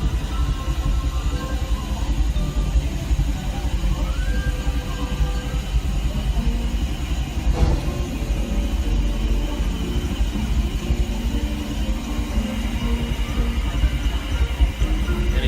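Disneyland Railroad train from 1955 rolling along steadily, a continuous close rumble of wheels and carriages with occasional clanks and a brief squeal, heard alone.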